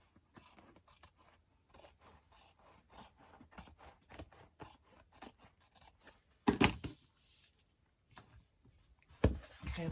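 Scissors snip repeatedly through paper in a quiet room, with a steady run of short, crisp cuts followed by a couple of louder clacks and rustles near the end.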